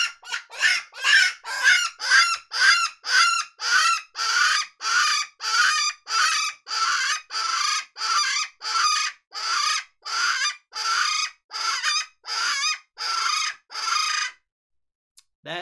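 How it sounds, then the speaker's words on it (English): A Dog Soldier Legend 5RB hand predator call blown in a long run of about twenty raspy bird-type squalls, each loud and close, evenly spaced, then a short pause. "That is the Legend 5RB, a very raspy bird-type sound that is a cat-killing machine."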